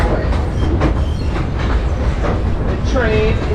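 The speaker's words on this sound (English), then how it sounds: "The train is powered by an LYBT Otis hydraulic diesel power engine" St Kitts scenic train driven by a hydraulic diesel engine rolls steadily along the rails, a continuous rumbling clatter with a brief metallic wheel squeal near the end.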